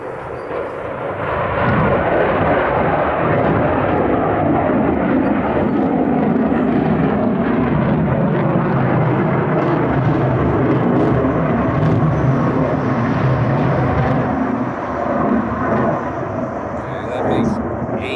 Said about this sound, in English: Oh, we have another F-22 going out.